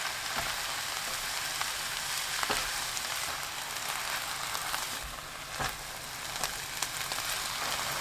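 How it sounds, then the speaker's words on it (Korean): Oyster mushrooms stir-fried with fine salt and scallion crackle in a hot pan, a dense continuous sizzle dotted with light clicks and scrapes from the stirring utensil. "고운 소금 반 큰술, 파 넣고 30초 볶습니다."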